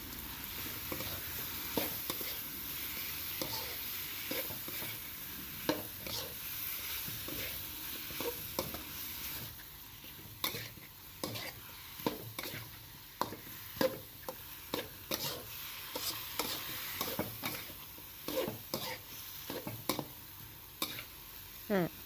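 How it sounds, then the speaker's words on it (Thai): Young coconut shoots and blanched shrimp being stir-fried, a steady low sizzle under repeated close scraping and clacking of a spatula against the pan, growing busier as the mixing goes on, no talk. "ใส่เป็นยอดมะพร้าวอ่อนที่ลวกไว้ แล้วก็กุ้งลวก ผัดคลุกเคล้าทุกอย่างให้เข้ากันดีเลยค่ะ"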